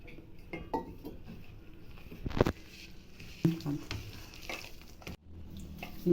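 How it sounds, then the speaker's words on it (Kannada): Rice and wheat flour dough kneaded by hand for akki rotti, heard as close, quiet squishing and pressing with a few sharper knocks against a bowl, no voices. "ನೀರು ಹಾಕ್ಕೊಂಡು ಗಟ್ಟಿಗೆ ಮಿದಿಬೇಕು"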